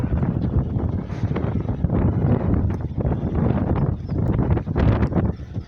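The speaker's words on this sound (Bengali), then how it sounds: "বইতে শুরু হয়েছে এবং বাতাসটা গায়ে লাগছে" Wind blowing across a rooftop under a dark, cloud-covered sky just before rain: a steady, loud, rumbling gust that buffets the microphone without a break.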